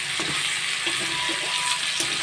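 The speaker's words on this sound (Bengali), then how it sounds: "দেখতে পাচ্ছি লাল লাল করে ভাজা হয়ে গেছে আমি এখন নামিয়ে নেব এইভাবে মাংস" Chicken meat frying in hot oil during home cooking, a steady close sizzle with occasional stirring scrapes throughout, no talking.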